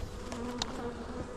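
Honey bees hum steadily around an opened beehive during an inspection, a close, even buzzing drone with a few louder passes of individual bees.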